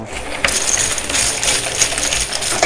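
Quarters clatter and jingle continuously as they fall inside a high-limit coin pusher machine, with a steady metallic rattle at close range.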